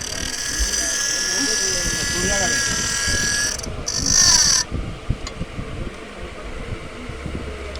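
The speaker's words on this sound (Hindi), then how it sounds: "ये पंखा जाम चल रहा है, इसकी समस्या देखना पड़ेगा क्या फंस रहा है क्या।" A jammed cooling fan inside a Rapidtron battery charger whirs with a steady mechanical hum and a faint rubbing whine, then cuts off, leaving clicks and handling noise close by.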